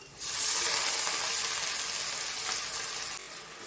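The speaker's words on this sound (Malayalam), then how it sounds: "സിമ്പിളായിട്ട് മുരിങ്ങ വറുക്കാം" Drumstick pods frying with garlic, onion and green chilli, Palakkad style, give a steady close broadband sizzle that starts abruptly and holds level, easing slightly near the end, with no voices.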